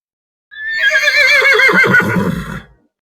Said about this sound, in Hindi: साधु बाबा ने पास बंधे एक घोड़े की ओर इशारा करते हुए बोले,